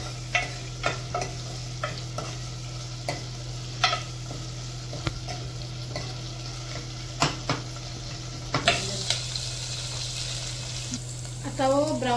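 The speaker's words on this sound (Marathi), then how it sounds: "बरी फ्राय जावन दी." Vegetables frying in a pan until browned: a constant sizzling hiss with a low steady hum, punctuated every second or so by sharp scrapes and taps of stirring, growing louder near the end.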